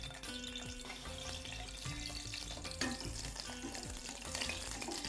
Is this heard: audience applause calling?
no